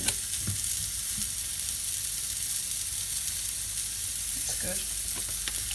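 A beef burger fries in oil in a pan, giving a steady crackling sizzle with a few louder pops and stirring scrapes near the end; a voice speaks briefly over it at one point.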